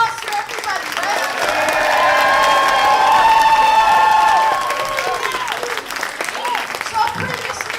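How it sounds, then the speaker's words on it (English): A comedy show audience at a female comic finale bursts into loud applause with cheers and shouts, swelling through the middle before easing into scattered clapping and chatter. "give a round of applause for everybody"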